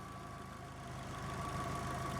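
A Subaru Forester STI engine idling close by with a quiet, even pulsing rhythm and a faint steady whine, with no one speaking.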